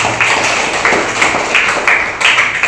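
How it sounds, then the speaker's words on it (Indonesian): A group claps for a presenter in a classroom, a steady, close burst of hand claps with rhythmic accents lasting the whole moment, with no talking over it. "tepuk tangan untuk Mas Davis"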